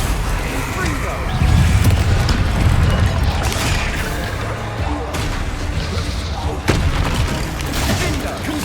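Spell blasts from the explosive Confringo curse in Hogwarts Legacy go off as repeated booming bursts amid combat noise, with a sharp crack near the end, under a dense, loud game soundscape and spoken incantations.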